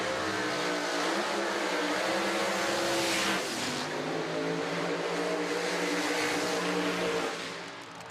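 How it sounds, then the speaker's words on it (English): Drag racing cars at the PDRA World Finals at Virginia Motorsports Park, among them a 2018 Camaro, fire up and rev loudly, pulling through the water box with a shifting engine roar that fades slightly at the end. "Our next pair fire up and pull through the water box."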